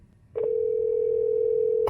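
A steady telephone dial tone rings out through a Tesla Model 3's Google Assistant add-on while it places a call, a single unbroken tone lasting about a second and a half after a brief click.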